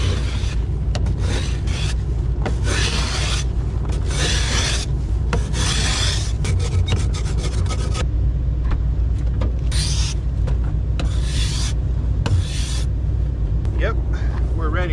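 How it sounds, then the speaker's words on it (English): Frost is scraped off the inside of van windows in -30°F Alaskan winter cold. Bursts of harsh rasping rub back and forth, loud and close, over a steady engine hum. "I had to scrape the inside of my windows."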